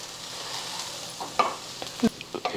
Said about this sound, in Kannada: ಈಗ ಚಲೋ ಹೊತ್ನಾಗೆ ಮಿಕ್ಸ್ ಮಾಡ್ಕೋತೀನಿ ರೀ